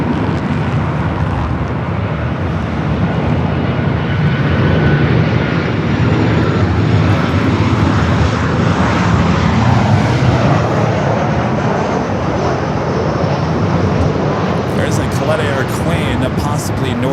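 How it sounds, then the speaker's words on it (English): Boeing 787-9 Dreamliner jet airliner departing LAX bound for Shanghai, a steady, loud broadband engine roar that holds for the whole stretch, with a faint higher whine near the end. "Streamliner flight 198 heading to Shanghai. 787-9 Dreamliner."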